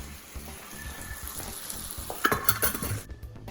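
Steak and noodles sizzle and fry in a pan while being stirred, with steady crackling under scraping utensil strokes that grow more clattery toward the end.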